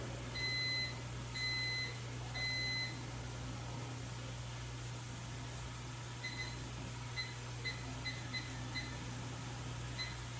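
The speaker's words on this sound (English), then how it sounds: "Just setting a timer for 10 minutes on the rice so that I know when it is done." A kitchen timer for cooking rice beeps in short, high two-tone bursts, three at first and then a quicker run of beeps later, clear and fairly close over a steady low hum of kitchen appliances.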